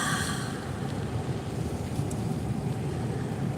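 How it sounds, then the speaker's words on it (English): Wind roars past a moving microphone in a dense, steady rush of broadband noise that holds loud and unbroken throughout, with no voices. "Once you get moving, the air starts flowing."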